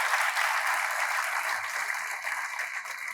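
Full hall of listeners at a Hindi poetry gathering in Chandigarh clapping steadily, a thick continuous wash of applause that eases off slightly toward the end.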